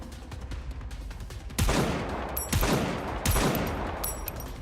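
Gunfire from the video game NIKKE: after a quieter stretch, loud broadband bursts of shots and rapid fusillades erupt in several clusters, with bright metallic pings and effects ringing between volleys.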